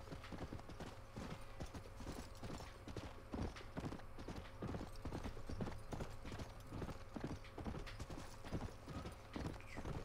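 Steady clip-clop of horse hooves while riding across open country in the Western game Red Dead Redemption, a continuous even trotting rhythm up close and moderately loud, with no talk.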